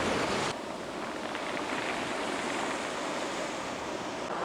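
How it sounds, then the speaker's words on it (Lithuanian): Sea waves on Madeira wash back over stones in a continuous loud rushing hiss, close to the listener, with wind buffeting the microphone and no talking. "Koks tas garsiukas nuo vandens geras, ar ne? Nes šitą per tas akmenis, kai bėga atgal."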